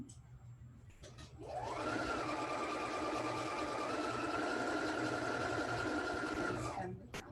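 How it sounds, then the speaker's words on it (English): Sewing machine stitching patchwork fabric, running in one steady, continuous whirring burst of about six seconds after a short pause, fairly close and even in level. "Remember not to sew on top of the pins."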